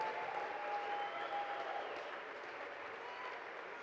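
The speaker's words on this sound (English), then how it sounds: "A round of applause for all of those people." An audience claps for scholarship competition nominees, a steady, moderately distant round of applause filling the room at a constant level throughout.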